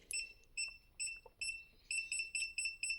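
A cheap AliExpress multimeter in wire-detection mode beeps in a series of short, high, steady electronic tones, about eight beeps in an uneven rhythm, near and clear with no talking.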